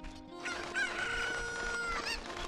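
A chicken crows loudly in The Legend of Zelda: Ocarina of Time in Kakariko Village, a single drawn-out cock-a-doodle-doo over steady game background sound.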